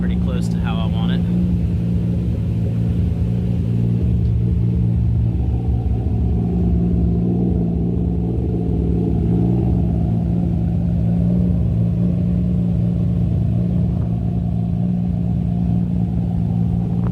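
A tuned car engine idles steadily, a loud continuous low rumble that holds even throughout, with a brief burst of other noise at the very start.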